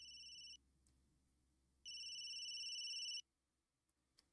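A phone ringtone plays two electronic tone bursts, a short one then a longer one over a second long, bright and steady against a quiet room with a few small clicks afterward.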